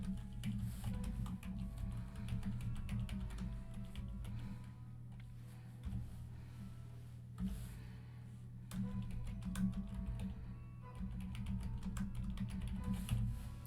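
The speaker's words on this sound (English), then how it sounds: "And then I'm going to type my message." Continuous rapid clicking of a computer keyboard as a message is typed, close up and steady over a low background hum.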